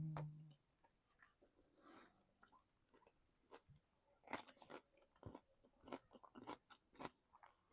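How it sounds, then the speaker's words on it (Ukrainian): Quiet, crisp crunching bites and chewing of a pickled cucumber in red adjika, a series of irregular sharp crackles close up, with no talking. "Ви чуєте, як хрустить цей огірок?"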